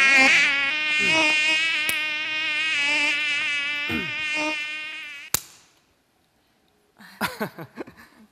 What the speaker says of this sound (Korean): 아직까지 모기가 있어.